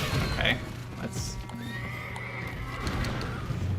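In Elden Ring, a horse whinnies and hooves clip-clop amid game noise and combat, with a bright neigh burst early and steady background rumble.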